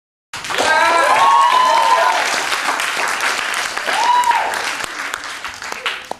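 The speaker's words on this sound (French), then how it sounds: "on applaudit maintenant Paul" Audience applause breaks out suddenly and continues as a dense, sustained clapping for about six seconds, with voices and cheers mixed in over it.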